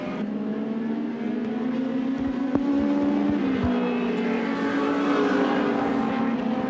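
Touring cars race at Wanneroo in 1988, a loud sustained engine drone from several cars with a rising, shifting pitch and a few sharp knocks mid-way, continuous and close.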